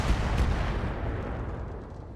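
Weapon fire in the BattleTech mech combat video game: one heavy, booming shot that swells at once and then decays into a long rumbling roll, loud and alone.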